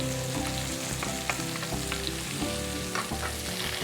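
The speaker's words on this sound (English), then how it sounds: "I'm just gonna add this garlic in with the sausage." Garlic sizzling in a pan alongside sausage, a steady close frying hiss with small crackles and a few light utensil scrapes, continuous with no talking.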